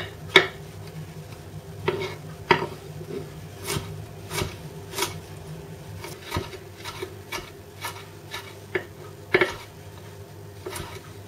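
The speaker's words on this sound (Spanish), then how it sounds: "Por último, picaremos cebolla que añadiremos al resto de los componentes" Onion being chopped on a board with a knife: a series of sharp, evenly spaced taps, close and clear, over a quiet background.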